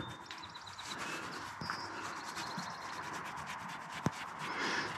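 Someone scratches and rubs a horse's coat, a soft, continuous brushing rasp that stays faint and close, with one sharp knock near the end.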